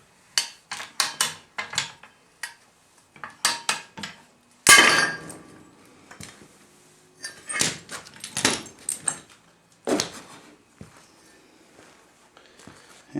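Cast iron pipe being snapped apart with a pipe cutter, giving a run of sharp metallic clicks and ratcheting knocks followed by one loud crack and scattered clanks.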